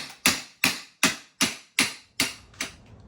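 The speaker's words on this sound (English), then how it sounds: "Hammer." Hammer blows during home renovation work near a plumbing trap, seven evenly spaced sharp strikes roughly every 0.4 seconds, close and loud, the last one lighter, with no talk over them.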